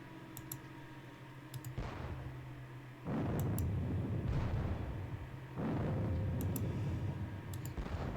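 Booming artillery fire from a Gettysburg wargame on the computer comes in two or three heavy bursts, interspersed with sharp mouse clicks.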